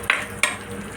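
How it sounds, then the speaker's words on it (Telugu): Onions and green chillies frying in a pan, with a constant soft sizzle and two quick stirring scrapes close by. "ఉల్లిపాయ కొంచెం వేగనిద్దామండి దోరగా."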